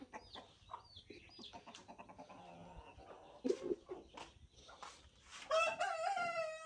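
Rooster crowing in a rural yard, a fairly faint, drawn-out call rising near the end over scattered clucks and low background noise, with no talk.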